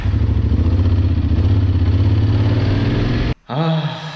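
A Honda X-ADV750 motorcycle idles loudly close by with a steady throbbing engine note, cuts briefly to near silence, then revs up as it sets off.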